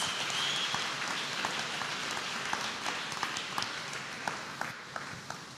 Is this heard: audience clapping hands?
yes